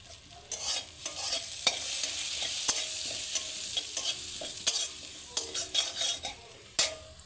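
Cumin seeds and chopped onion fry in hot oil with a steady close sizzle, broken by scattered clicks and scrapes as a utensil stirs the pan; no voices.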